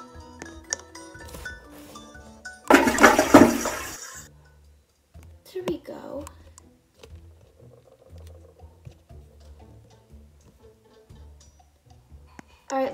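A toilet flushes in the Roblox game, a loud rushing burst of water lasting about a second and a half amid scattered clicks, with a voice talking before and after.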